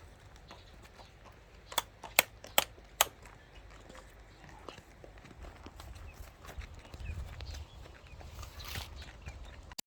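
A racehorse's hooves striking hard ground, a few sharp separate clops early on followed by softer scuffing steps and rustling, close and fairly loud.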